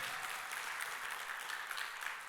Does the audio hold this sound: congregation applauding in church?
yes